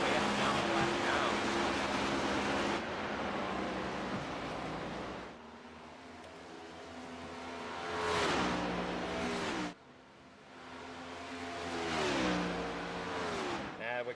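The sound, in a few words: race cars driving on track at Watkins Glen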